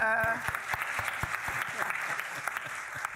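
A conference panel audience applauds, with scattered individual claps that form a brief, moderate burst. A voice speaks over the start of it.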